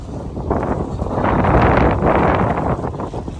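Strong typhoon wind buffeting the microphone in Cebu, a loud continuous roaring rush that surges and holds.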